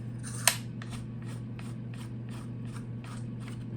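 A Tippmann TiPX paintball pistol has its barrel reinstalled, giving one sharp click followed by a rapid series of light threaded ticks and scrapes, close and quiet over a steady background hum.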